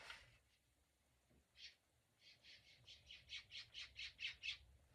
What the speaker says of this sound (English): You hear my birds out there?